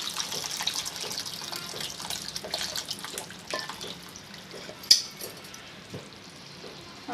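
Water streams into a pot of simmering tamarind curry for kanda pulusu, a steady broadband pour with a few sharp splashes and clinks, close and moderately loud.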